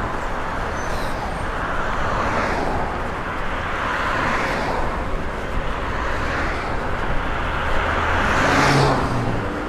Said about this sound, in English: That Volvo wanted to get around me